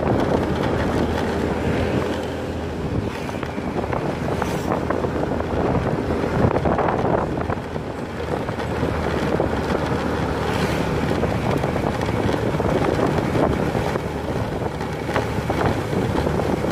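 Strong wind roars loudly and continuously across the microphone while travelling along a rural road in Bondowoso, a constant rushing gust with no voices.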